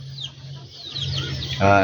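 Pet chickens cluck in a coop just after feeding, short near clucks rising over a low background hum and growing louder at the end.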